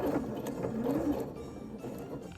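A home sewing machine runs a short burst of back stitching at the end of a seam, its motor whirring steadily at close range before easing off, with no talking.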